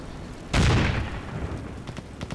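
In the World War II game Combat Mission: Barbarossa to Berlin, a single loud explosion booms and then rumbles away, followed by faint scattered cracks of distant fire.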